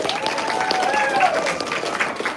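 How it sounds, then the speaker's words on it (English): Audience applause at a school music honor society awards ceremony, a steady wash of clapping from a seated crowd with faint voices mixed in. "Please give them a big round of applause"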